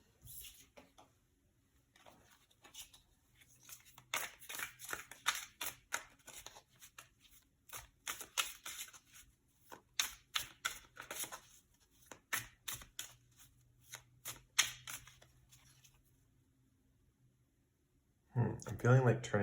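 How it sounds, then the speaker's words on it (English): A deck of tarot cards is shuffled by hand close up. The riffles are quick, with papery flicks and patters in repeated bursts and short pauses between them. A voice speaks briefly at the very end. "All right, so let's pull some tarot cards."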